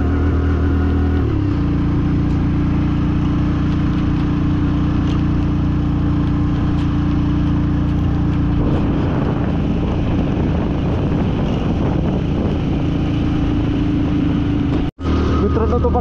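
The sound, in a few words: Hero Passion Pro motorcycle engine climbing Zojila Pass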